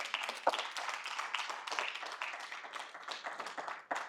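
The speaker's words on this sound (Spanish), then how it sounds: "Denle un aplauso a Dios" A church congregation applauds during a worship service, a soft, dense and continuous patter of many hands clapping that sounds somewhat distant and fairly quiet, tapering off at the end.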